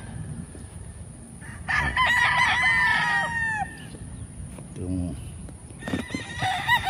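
Roosters on a big farm in Lipa City, Batangas crow in a long, loud call at middle distance, followed by shorter clucks and another crow starting near the end, over a background of farmyard murmur.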